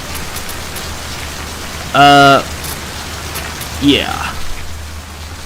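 Steady rain in the video game Left 4 Dead 2 pours as a constant hiss throughout, with a short loud tone burst partway and a brief spoken word and a voice later over it.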